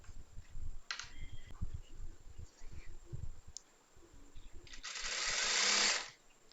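A sewing machine runs a short burst while stitching a churidar seam, a close, fast mechanical whir near the end after quieter handling clicks and rustles.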